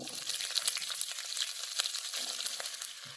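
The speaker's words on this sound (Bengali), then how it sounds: "কপিটা দেওয়ার পর গ্যাসের ফ্লেমটা একটু বাড়িয়ে দিয়ে কপিটাকে একটু মিনিট দুয়ে ভেজে নিতে হবে" Cauliflower pieces fry in oil with five-spice seeds for aloo phulkopir chochchori, a steady hissing sizzle with crackly pops, close and moderately loud throughout, with no talking.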